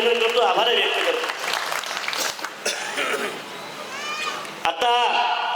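Crowd applause at a public political rally in Saswad, a dense burst of clapping mixed with cheers and voices from a large gathering, steady and fairly loud throughout.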